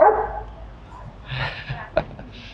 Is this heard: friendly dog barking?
yes